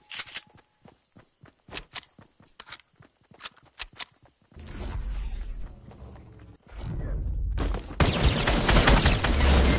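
Gunfire in a battle royale video game: scattered sharp single shots and footsteps, then dense bursts of rapid fire that grow louder toward the end.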